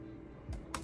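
Two quick keystrokes on a computer keyboard while someone types code, sharp and close against a low steady room hum.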